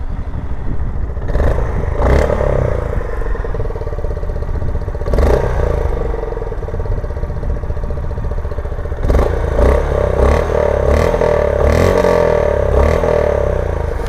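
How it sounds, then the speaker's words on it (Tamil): A 2025 Honda CB350 Classic motorcycle idles steadily with a low, even exhaust thump, close and fairly loud, with occasional clatter and brief blips of throttle breaking through. "இன்ஜினில் அந்தளவுக்கு சவுண்டு வரல, ஆனால் எக்ஸாஸ்ட்டில் சூப்பராக வருது சவுண்டு."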